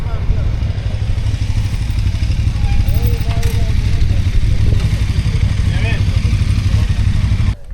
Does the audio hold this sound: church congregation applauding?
no